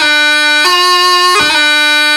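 A C doubling is played with the G grace note on the beat, giving a steady, reedy, bright melody with quick grace-note breaks between held notes, loud and close with no voices.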